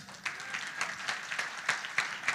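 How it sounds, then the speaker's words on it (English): Rhythmic clapping from a church conference congregation, fairly faint and distant, with regular beats roughly every quarter second suggesting people clapping along in time. "Oh, I say you can clap tonight."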